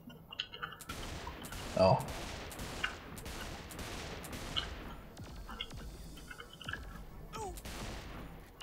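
Gunfire from Saints Row 4 cracks in a rapid series of sharp, evenly spaced shots, loud and close, with a brief voice exclaiming amid the volley.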